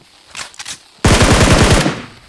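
A short, faint burst of shots comes first, then a loud, close stream of rapid automatic fire in a PUBG Mobile match, with no voices.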